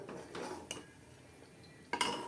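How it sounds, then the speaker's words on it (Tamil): A spoon scrapes and clinks against a pan while stirring spicy onion thokku made with shallots and big onions, a few quiet metallic knocks with a sharper clink near the end. "அடி பிடிக்காமல் கலரி விட்டுட்டே இருக்கணும்."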